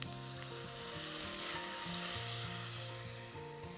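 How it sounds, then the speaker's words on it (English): Onions coated in a spice mixture stirred in a hot pan for Greek lamb and orzo stew, a constant soft sizzle with faint scraping of the spoon, close and quiet. "we'll just stir this around for a few seconds just to make sure everything's blended and coat the onions in the spice mixture"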